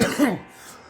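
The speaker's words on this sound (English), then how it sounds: "Then coughs." A short, throaty cough fades into a quiet, breathy tail.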